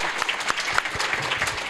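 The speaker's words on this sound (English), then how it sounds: "But before that, can we give Maurice a big round of applause for doing this?" Dense, continuous clapping from an audience at a Pinky and the Brain convention panel, a close, lively round of applause with no break.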